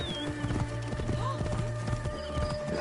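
Horse in the Assassin's Creed Origins video game, hooves clip-clopping in a steady rhythm with a brief whinny, set against soft game ambience and background music.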